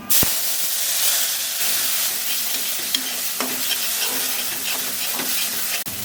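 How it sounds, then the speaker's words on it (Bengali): A ground paste of tomato, coconut, coriander and cumin hisses and sputters as it hits hot oil in a pan, loud close sizzling with stirring scrapes and a few sharp knocks of a spoon, no speech. "এখন হচ্ছে এই যে সেই সব বাটা মশলাটা দিয়ে দেবো, টমেটো, নারকেল, ধনে, জিরে।"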